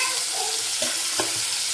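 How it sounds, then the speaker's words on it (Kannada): Onions frying and being stirred in a pan: steady close sizzling with soft scraping strokes of stirring throughout. "ಈರುಳ್ಳಿ ಚೆನ್ನಾಗಿ ಫ್ರೈ ಆಗಬೇಕು."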